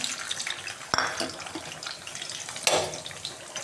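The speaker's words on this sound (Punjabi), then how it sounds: "ਰਾਈ ਤੋਂ ਬਾਅਦ ਆਪਾਂ ਪਾ ਲਿਆ ਲਸਣ" Garlic sizzles in hot oil in a pot for moong dal after mustard seeds, a continuous close frying hiss with a couple of sharper clanks of a utensil against the pot.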